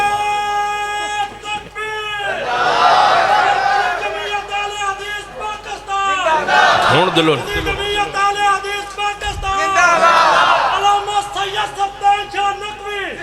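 At a religious speech gathering, a crowd shouts slogans in three loud surges of massed voices, with a lead voice between them.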